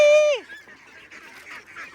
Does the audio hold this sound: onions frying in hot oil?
no